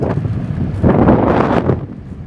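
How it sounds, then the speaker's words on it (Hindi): Strong autumn wind buffets a microphone outdoors beside an empty road, a continuous low rumbling roar that swells louder midway and holds steady, with no talking. "आजकल हवा बहुत तेज चलने लगा है ना, क्योंकि पतझड़ का मौसम आ गया ना, अब तेज हवा बहेगा ही"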